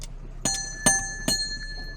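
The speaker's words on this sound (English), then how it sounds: "Oh, you gonna ring the bell?" A child rings a small bell aboard a boat on the St. Croix River: three bright, clear dings about half a second apart, each ringing briefly and fading, alone with no talk.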